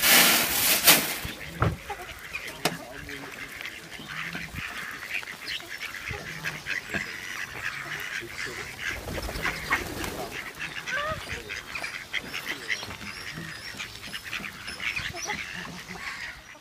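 Ducks quacking outdoors near water, a busy cluster of overlapping calls and squawks continuing steadily, with brief voices and bursts of noise mixed in.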